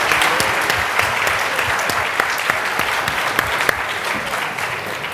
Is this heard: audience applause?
yes